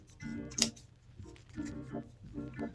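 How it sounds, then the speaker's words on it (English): Scissors snip through yarn wound inside a pom-pom mold, giving several separate close clicks and cuts at an uneven pace, with no voices. "I'm gonna take some scissors and I'm gonna start cutting along the inside of this mold"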